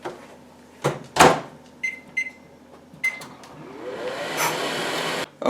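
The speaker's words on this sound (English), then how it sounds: "Set that for about, standard microwave, probably about 18 seconds." A standard microwave oven used to thaw butter, with button beeps, clunks of the door and a low running hum that swells into a steady drone before a final click.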